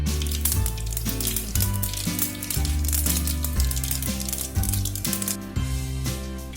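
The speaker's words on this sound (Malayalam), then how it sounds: "വെളിച്ചെണ്ണ നന്നായി ചൂടായി കഴിയുമ്പോൾ 1/2 ടേബിൾ സ്പൂൺ കടുക് ചേർക്കാം." Mustard seeds crackle and pop in hot coconut oil in a frying pan for Kerala sadya beetroot pachadi, a dense, close sizzle over rhythmic low thumps of background music.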